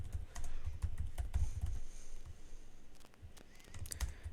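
Someone types text on a computer keyboard in quick, uneven bursts of soft key clicks. The sound is close and quiet, with short pauses between runs of keystrokes.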